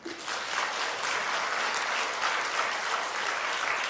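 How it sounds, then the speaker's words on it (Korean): A church congregation at a Methodist revival meeting in Cheongju applauds the choir with steady, dense clapping from many hands that holds evenly throughout. "우리 박수로 한번."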